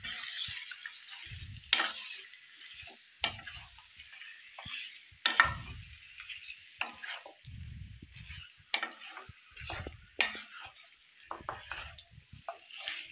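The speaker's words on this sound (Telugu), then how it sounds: "ఇవన్నీ కలిపి బాగా కలుపుకోవాలి" Chicken pieces are mixed with spices in a frying pan for an Andhra-style chicken fry: repeated close scraping stirring strokes over a steady sizzle, some quick and clustered, others spaced, with no talking.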